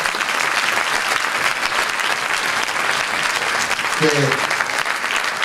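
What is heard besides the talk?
audience applause for choir conductor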